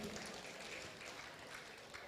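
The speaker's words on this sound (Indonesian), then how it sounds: "Tepuk tangan untuk kalian semua yang ada di sini." Audience clapping at the final of a pop singing competition in Singaraja, Bali: faint, steady applause that holds evenly throughout with no voices on top.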